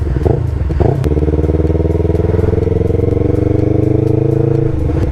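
Yamaha R3 streetfighter motorcycle fitted with an M4 full exhaust, ridden along a snowy sidewalk: a loud, steady close-up engine drone with a brief throttle blip near the start, holding a constant rumbling tone throughout.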